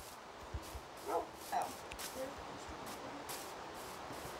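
Faint dog yips and a short whimper from a Minecraft pet wolf, two brief calls close together against a quiet background of game ambience.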